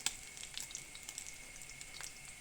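Sausage and tomato waffle rounds coated in batter fry in a pan over medium heat, giving a steady, faint sizzle with soft crackling pops and no voices.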